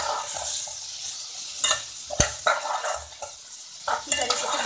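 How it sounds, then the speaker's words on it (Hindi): Minced keema frying in oil for aloo-keema kachori filling, a steady close sizzle broken by clinks and scrapes of a spoon stirring the pan, with no voices. "अब इसमें कीमा फ्राई करेंगे तेल में।"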